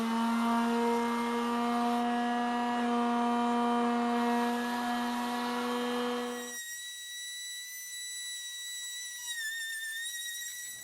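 A power sander works a turned birch bowl, a steady whining hum with strong tones that cuts off partway through, leaving a thinner high whine that wavers quietly.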